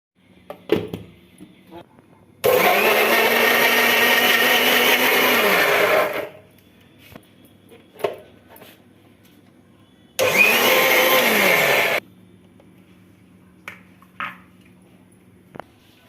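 A low-cost mixer grinder runs loudly in two bursts, one of about four seconds and a shorter one of about two, each winding down, with quiet clicks and handling noises between them.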